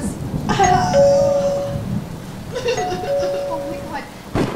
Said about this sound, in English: The doorbell just rang.